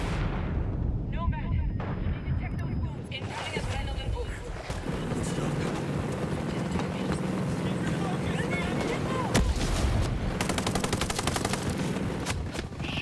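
Heavy, continuous gunfire and explosive booms fill a firefight in the video game Ghost Recon Breakpoint, a dense unbroken barrage from start to finish, with voices talking over it.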